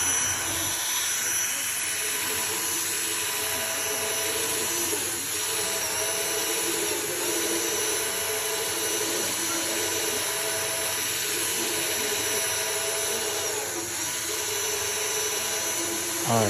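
A power sander works slowly over a 2013 Ford C-Max headlight lens during restoration, making a steady, continuous whirring hum at low speed with slight swells as the pad moves across the plastic.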